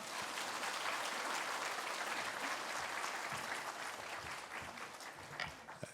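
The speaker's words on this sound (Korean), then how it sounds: "박수로 맞이하겠습니다" A church congregation at a Sunday worship service applauds to welcome the pastor, a sustained wash of clapping at moderate distance that slowly fades toward the end, with a few louder claps near the finish.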